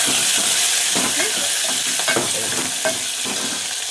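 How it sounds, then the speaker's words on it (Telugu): A tempering of curry leaves and slit green chillies is stirred in a hot pan, with continuous sizzling and repeated scraping strokes of a spoon close by. "ఇప్పుడు మంచిగా కలపాలి"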